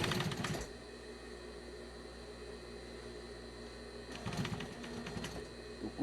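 A 640 denim sewing machine stitches a jeans hem in short bursts, a rapid mechanical chatter at the start and again near the end, with a low motor hum between.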